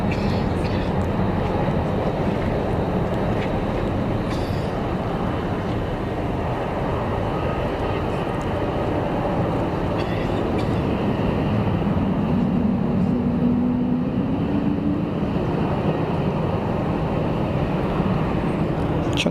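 An Airbus A330 airliner at Zurich Kloten Airport gives a loud, continuous jet engine roar that fills the scene steadily throughout, with faint voices barely showing beneath it.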